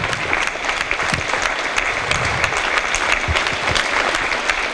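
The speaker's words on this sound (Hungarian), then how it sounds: "Azt gondolom abszolút megérdemlik a tapsot," Audience applause for the third-placed team at a Forma-Hungária Cup award ceremony, dense loud clapping with some crowd noise, close and continuous.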